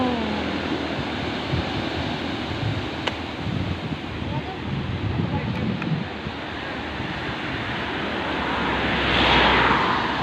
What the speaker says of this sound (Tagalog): Sobrang laki ng alon dito.